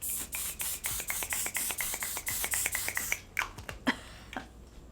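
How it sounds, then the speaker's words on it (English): Rapid bursts of One Size On Till Dawn setting spray misting from a bottle, over a dozen quick pumps in a steady rhythm, close and crisp, followed by a few scattered spritzes. "I'm going to use the One Size On Till Dawn Mattifying Waterproof Setting Spray"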